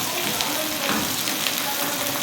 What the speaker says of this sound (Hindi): और अब मैं इसे अच्छे से ज़रा स्टर कर लूँगी। इसी में ही फ्राई हो जानी चाहिए।